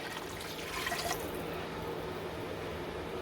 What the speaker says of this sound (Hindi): फिर हम इसके अंदर 1 कप पानी डालेंगे।